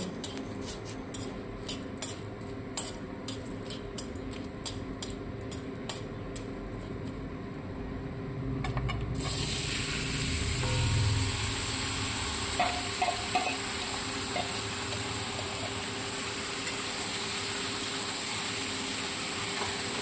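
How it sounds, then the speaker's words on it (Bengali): Marinated mutton tipped into hot, spiced oil: light clinks and scrapes at first, then a sudden loud, dense sizzle that roars on steadily, with occasional stirring knocks underneath. "এবার ম্যারিনেট করে রাখা মাটনটা আমি তার মধ্যে ঢেলে দেব।"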